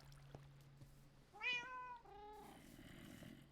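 A cat in Minecraft meows twice in quick succession, a clear, fairly close pair of calls over faint background sound, with no speech.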